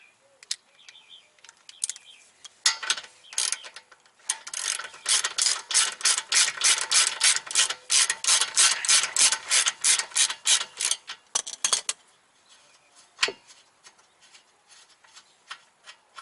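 A ratchet socket wrench loosens a bolt on a 2002 BMW 328i coilover, giving a close, quick run of metallic pawl clicks for several seconds, with a few scattered clicks and handling taps before and after.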